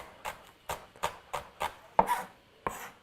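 A whole onion being chopped on a board for mushroom tacos, seven crisp knife strokes in a steady rhythm, close and fairly quiet, with no talking.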